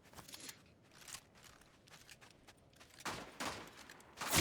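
Gunfire in the Fortnite video game, scattered sharp bursts and shots of varying loudness, with a heavier volley building toward the end and no talk over it.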